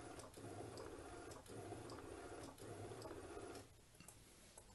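An Epson L1800 printer runs with roll feed, its print head shuttling back and forth in repeated mechanical passes about a second apart, loud and close, before the motor noise drops off near the end.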